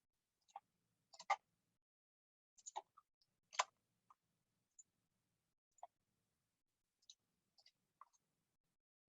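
Computer mouse clicks while modelling in MatrixGold jewelry software: sparse, faint, sharp clicks, some in quick pairs, spread irregularly across a quiet background.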